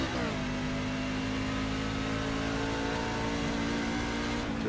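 A NASCAR fixed-setup race truck engine in the iRacing sim drones loudly and steadily at high revs throughout. The pitch dips briefly at the start, then holds level with no shift.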